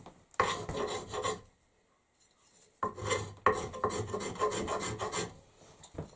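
A recently filed plain iron scraper rasps against a surface in two close bursts of quick rhythmic strokes separated by a short pause, with no voices.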